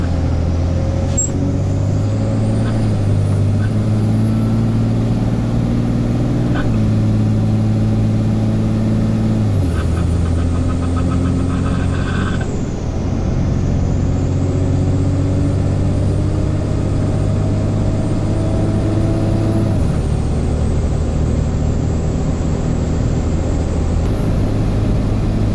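A Cummins diesel-swapped Ford truck driving on the road, its engine droning steadily with rising and dropping pitch through gear changes, loud and continuous with a high whine above.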